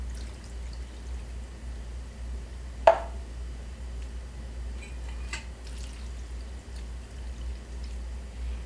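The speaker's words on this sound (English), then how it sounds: "then add the yanang juice to it" Yanang juice is poured into a pot on a stove for Lao bamboo soup, a faint steady trickle with one sharp clink partway through.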